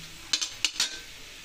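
A spoon scrapes and clinks against a pan as bitter gourd (karela) is stir-fried over a medium flame, four quick metallic taps close by with no one talking.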